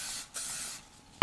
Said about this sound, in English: this piece that I'm going to spray.